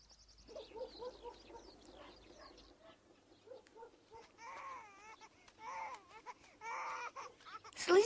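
A small baby cries faintly in a 1990 film scene, in intermittent whimpering bursts that grow louder toward the end over a quiet background.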